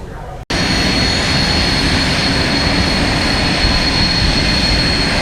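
Airplane engine during departure from Stennis International airport, a loud continuous broadband roar heard from inside the aircraft, steady after a brief break at the start, with faint voices underneath.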